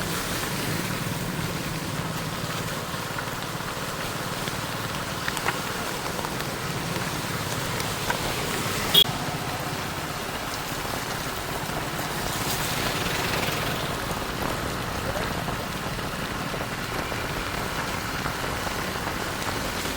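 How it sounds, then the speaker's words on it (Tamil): Heavy, sudden rain pours steadily over Chankanai town in Jaffna as a dense, continuous hiss, close and loud, holding an even intensity throughout with a few faint knocks and no talking. "சரியான மழை."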